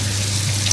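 Donuts shallow-fry in hot oil in a pan, giving a steady, loud, close crackling sizzle that is unbroken for under a second, with a low hum beneath.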